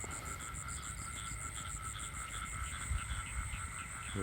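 Frogs croak at night during a frog hunt, a steady chorus of pulsing calls mixed with continuous high insect trilling, moderately loud and without any voices.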